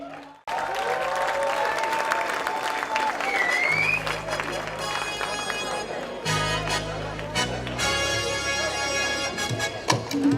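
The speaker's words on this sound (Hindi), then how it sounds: "आपकी बहुत सारी तालियों में तशरीफ लाते हैं परवेज सिद्दीकी" An audience at a reunion event applauds as the host is welcomed onto the stage, with loud, sustained clapping and crowd murmur alongside a voice heard over the applause.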